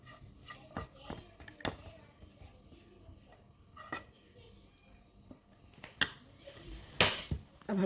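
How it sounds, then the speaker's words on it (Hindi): Cooled stuffing for Ramadan bread pockets is moved into another pot in a home kitchen, with spoon scrapes and clinks of metal cookware in irregular bursts over faint background noise. "अब हम इसको दूसरे बर्तन में शिफ्ट करते हैं।"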